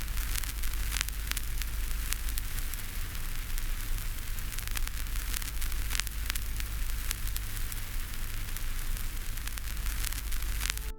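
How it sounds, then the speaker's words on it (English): Analog tape hiss used as a white-noise sample: a steady, even wash of broadband hiss with a low hum underneath and scattered faint crackles, unchanging throughout. "The constant hum of tape hiss can even function as white noise"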